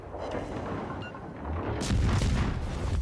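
Warship main guns fire in World of Warships Legends, a low, rumbling naval gun boom that swells into a heavier blast near the end over continuous background noise.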